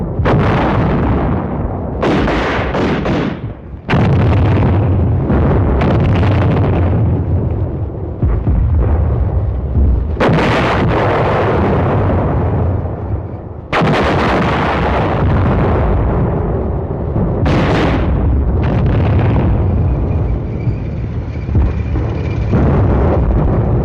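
Enemy artillery and guns lay down defensive fire at night against an advancing tank company team near a hill, with repeated heavy booms and bursts in clusters over a continuous loud rumble, no voices.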